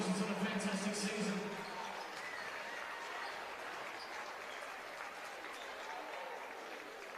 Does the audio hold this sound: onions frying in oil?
no